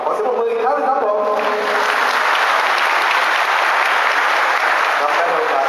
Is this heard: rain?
no